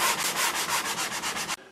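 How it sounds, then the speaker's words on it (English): Hand sanding pencil marks off the side of a wooden blind, about a dozen quick rhythmic back-and-forth rasping strokes, close and loud, stopping abruptly. "I'm just going to sand those off."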